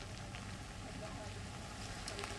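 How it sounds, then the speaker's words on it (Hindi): Strong wind and heavy rain during Cyclone Biparjoy at the coast in Mandavi, a steady dense roar of rain and gusts throughout, loud and continuous. "यहाँ पर हवाएं भी बहुत तेज हैं और बारिश बहुत तेज हो रही है"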